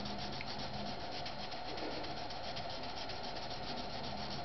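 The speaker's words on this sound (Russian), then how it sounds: "Дальше пойдет еще мельче абразив, мельче этого" Steady, continuous rubbing of finer abrasive over a straight razor blade during restoration, a close, even scratchy hiss with no pauses and no voices.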